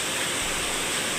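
Flowing water rushes as a steady, loud, broadband stream, continuous and close, with no voices over it.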